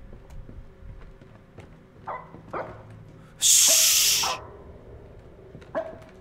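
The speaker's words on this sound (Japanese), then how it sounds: "犬が鳴いてる。" Dog in the horror video game Supernatural barks several times in short, moderately close bursts, with a loud hissing burst in between over a quiet ambient background.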